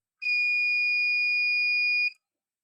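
A multimeter gives a continuity test beep on a shorted Asus X441M laptop motherboard: one clean, steady electronic tone held for about two seconds, then silence.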